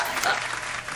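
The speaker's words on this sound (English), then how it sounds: "Round of applause goes to Ben." Applause during a livestream chat show, a short burst of clapping filling the whole moment with some voices mixed in.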